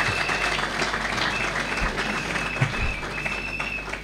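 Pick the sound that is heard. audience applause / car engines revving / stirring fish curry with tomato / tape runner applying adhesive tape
audience applause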